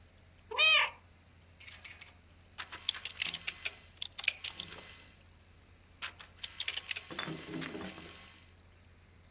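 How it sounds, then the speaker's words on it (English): A cat meows in the video game Stray: a single rising, tonal meow close and clear near the start, followed by clicks, taps and brief game sounds with a low steady hum beneath. "That's definitely like a Minecraft meow."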